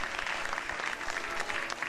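Warm applause from an audience after a children's performance, a steady even wash of many hands clapping, moderately quiet and alone.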